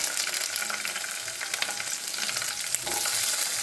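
Onion, capsicum, tomato and green chilli fry in hot oil with a steady, dense sizzle, broken by a few soft scrapes as the pan is stirred.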